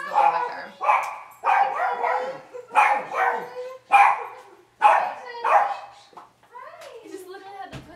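A dog barks about half a dozen times in a steady rhythm at close range, then gives a short whining yelp at the end.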